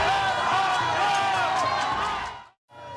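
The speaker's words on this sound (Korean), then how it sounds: "지지자들의 함성이 커집니다" Supporters gathered outside a detention centre cheer and shout as a roaring crowd, loud and continuous, before the noise cuts off abruptly near the end and then resumes.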